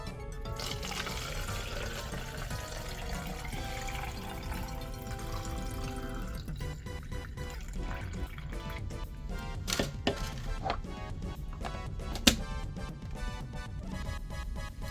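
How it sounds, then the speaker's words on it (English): Room-temperature water pours and trickles into a dinosaur toy container, a soft, steady liquid flow at low volume with occasional small splashes and clinks toward the end. "I've got some room temperature water that's gonna go in here."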